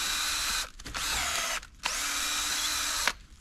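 A cordless drill drives bolts into a tree trunk in two sustained loud whirring bursts separated by brief pauses, with no talking.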